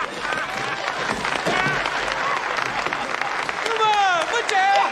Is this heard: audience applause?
yes